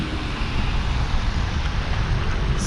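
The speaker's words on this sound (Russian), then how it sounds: "Вот так шумит Магадан." Winter street noise in Magadan city, with tractors driving: a steady, broad rumble of distant traffic and wind, with no distinct events.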